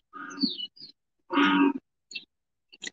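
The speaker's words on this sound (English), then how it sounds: "That's the sound of the invasive bullfrog." An invasive bullfrog in Southern California gives a run of deep, throaty, droning calls, one long burst and several shorter ones with silent gaps between, close and clear with no other sound.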